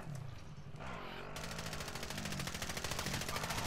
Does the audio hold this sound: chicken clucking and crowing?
no